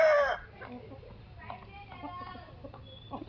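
A young hen sold on a farm in Kadapa, weighing 2.2 kg, gives a loud, brief call at the very start, then falls quiet while people talk faintly in the background.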